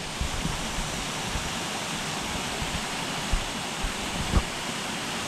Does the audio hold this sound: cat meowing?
no